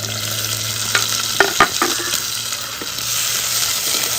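Small shallots and tomato sautéing in a pan for a yam-flower masala curry, a steady bright sizzle broken by a few sharp spatula scrapes and taps against the pan, close up.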